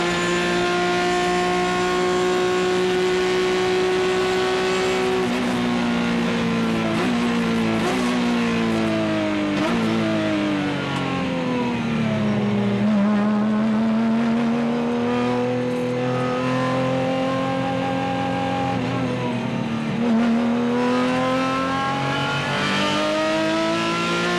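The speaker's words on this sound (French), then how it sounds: "On vit le départ depuis l'habitacle de la Renault Mégane de Bouvy." Inside the cockpit of a Renault Mégane race car at the start of a touring car race, the engine roars loud and close, revving up and down steadily through gear changes with a strong continuous whine.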